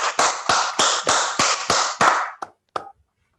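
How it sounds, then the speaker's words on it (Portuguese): Claps from an online audience come through microphones, about seven sharp, evenly spaced hits followed by two sparser ones before silence. "dar uma salva de palmas online aqui para o professor Anderson também"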